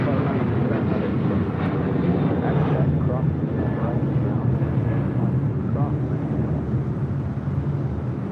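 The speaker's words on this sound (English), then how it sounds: "Next departure here on the south side is United Airlines flight 2039 heading to Chicago O'Hare in a 737-900 ER." A United Airlines Boeing 737-900ER departing LAX on the south side, bound for Chicago O'Hare, gives a steady, loud, broadband jet roar that holds evenly throughout, with voices murmuring underneath.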